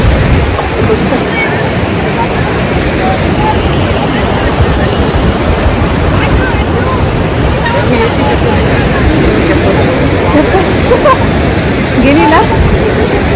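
Floodwater of the Godavari river in flood, a loud, continuous broadband rushing roar that stays steady throughout without pause.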